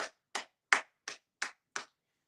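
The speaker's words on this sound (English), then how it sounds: "Clap it up, everyone." Six sharp hand claps, evenly spaced about a third of a second apart, ring out close and loud with nothing else around them.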